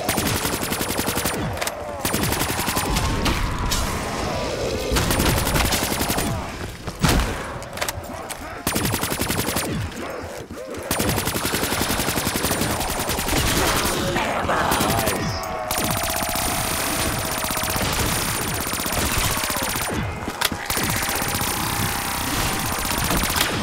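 Two players fire guns in a Mario-themed zombies video game, with rapid automatic bursts stacking into a near-continuous wall of gunfire. Short gaps break it up, and faint voices sit underneath.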